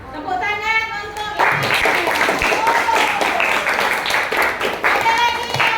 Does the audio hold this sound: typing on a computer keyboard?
no